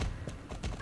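Horse hooves clip-clopping during a ride in the Star Stable Online video game, a few close, steady beats in quick succession with faint voice in the background.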